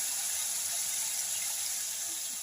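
Two cups of water pour steadily into a cooking pot of softened onions and tomatoes for bitter gourd and lentil curry, a continuous close hiss with no talk.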